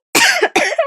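Two harsh, close coughs in quick succession, each a loud burst that trails off.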